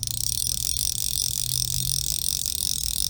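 An Orvis Battenkill Disc fly reel clicks as line is reeled in, a fast continuous buzzing ratchet of rapid tiny ticks, close and steady for a few seconds with no voices.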